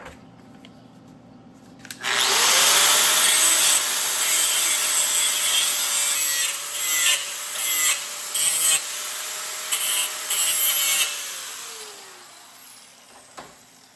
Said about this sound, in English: So I'm going to grind a little bit more off the back of this elbow here.